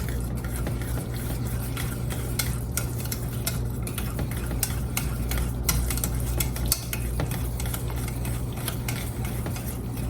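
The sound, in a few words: whisking homemade ketchup ingredients in a pot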